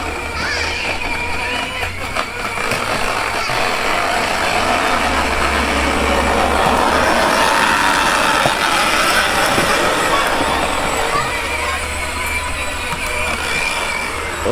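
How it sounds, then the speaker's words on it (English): John Deere tractors drag racing outdoors, a steady rumbling engine drone with mechanical rattling that holds for the whole stretch, fairly loud and continuous with no clear talk over it. "They're having a John Deere tractor race."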